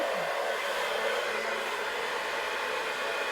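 A hair dryer runs steadily at a low setting, a constant soft whooshing blow with no talking over it.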